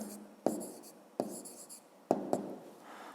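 Pen writing numbers on paper during a 5th-grade maths exercise, four short scratchy strokes with sharp onsets and quiet gaps between them, close and fairly soft, with no talking.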